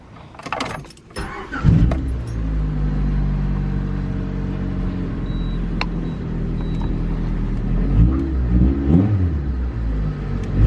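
A right-hand-drive car starts off after some clattering handling noise, then its engine hums steadily and swells as it accelerates, a close, loud rumble heard from inside with no talking.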